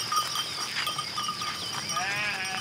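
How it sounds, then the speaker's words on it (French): A flock of about 80 ewes being herded up to a new hillside pasture, with faint bleats and light clinking over a steady outdoor background while a voice talks. "Virginie rejoint son mari Olivier pour guider leurs 80 brebis sur une nouvelle parcelle dans les hauteurs."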